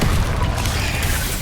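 An Incendio fire spell cast in the video game Hogwarts Legacy, a short dense whooshing burst of flame with a low booming rumble, loud and close, lasting about a second and a half.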